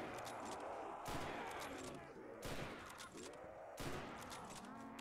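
Several sharp gunshot blasts, about three, spaced a second or so apart in a Black Ops custom zombies mod, ringing over a busy, reverberant game background with some talk.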